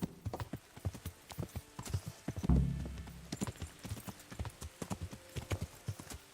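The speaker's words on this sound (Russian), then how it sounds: "Я сейчас на этом коне скачу Тальнберг." Rapid, evenly spaced hoofbeats of a galloping horse in the video game Kingdom Come: Deliverance, close and crisp, with a short whinny or snort partway through.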